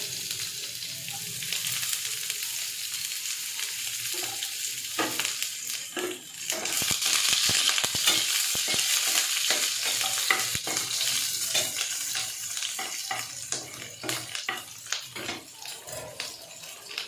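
Chopped onion frying in a pan for homemade Odia aloo pitha, a continuous crackling sizzle broken by frequent scraping and clattering stirs, louder in the middle stretch; no voices.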